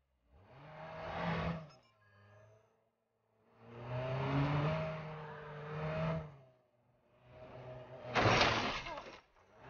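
A car driven in the game Watch Dogs: its engine revs in three long surges with a steady droning tone, ending in a sharp burst that sounds like a skid or impact, with no voices.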